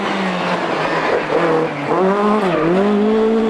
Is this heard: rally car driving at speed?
yes